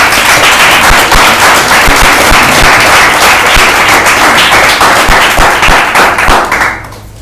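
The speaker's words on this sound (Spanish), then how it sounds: "Dale un aplauso a Dios." A church congregation breaks into loud, sustained applause, thick continuous clapping that holds steady before dropping off abruptly near the end.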